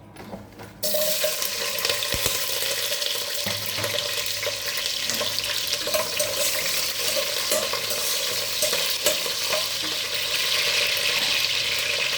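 Green chillies and onion are dropped into hot oil for biryani, bursting into a loud continuous sizzle and crackle close by that holds steady throughout, with no talking over it.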